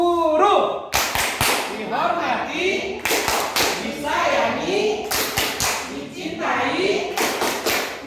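Teachers' 'tepuk guru' clapping chant at an Indonesian school training session: groups of sharp, close claps land in quick rhythmic bursts, trading off with voices chanting the lines in between.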